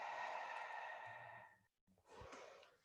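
A person breathes through a face mask: one long, airy exhale fades out, a brief silence follows, then a softer inhale, close and quiet.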